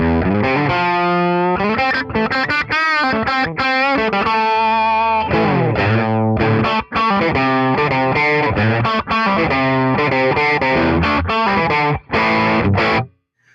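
A heavily distorted electric guitar through a simulated Plexi amp and 4x12 cabinet plays a fast, continuous riff with sustained notes and chords, loud and raw, with no talking.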